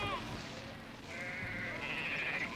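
Goats bleating during an evacuation from a locust control area, with drawn-out, wavering calls rising over a steady outdoor rumble of shuffling and movement.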